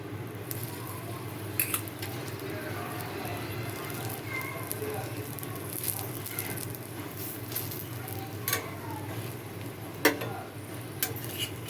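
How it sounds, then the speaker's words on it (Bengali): An aloo paratha fries in a pan with a little white oil, giving a steady, soft sizzle with occasional faint crackles and ticks throughout. "একটু অল্প আমি সাদা তেল দিয়ে ভাজছি"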